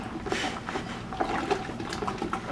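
A sugar and light malt extract mixture for hard strawberry lemonade is stirred in a pot, giving sloshing, swirling liquid sounds with soft clinks and irregular splashes, moderately close and without talk.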